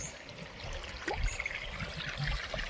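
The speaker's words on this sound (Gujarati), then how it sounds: "મોટર કરી દીધી ચાલુ અને ક્યારા ભરાય" Water from a motor pump runs into small irrigation basins on a village farm field, a faint, steady trickle and gurgle with light outdoor background noise and no talking.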